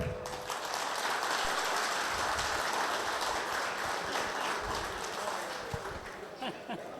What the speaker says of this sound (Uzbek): Buyoqqa shu yigitga bir qarsak qilinglar